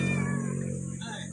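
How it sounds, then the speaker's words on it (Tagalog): A cat visiting a rural countryside home meows, a clear nearby wavering call heard over a loud steady low hum. "May pusa tayo guys na bisita."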